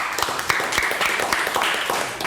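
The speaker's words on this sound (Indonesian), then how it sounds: "Tepuk tangan." Audience applause in an indoor gathering of IPDN students, a dense, steady patter of clapping filling the whole moment at even loudness, with some talk mixed in.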